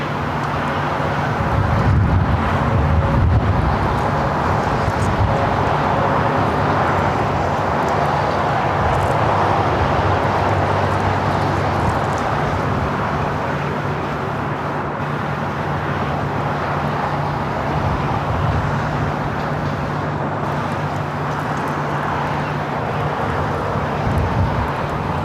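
A Lufthansa Boeing 747 jet airliner arriving at Los Angeles LAX on the north side, a steady broad roar of engines and wind that holds at a constant loud level throughout, with no talk.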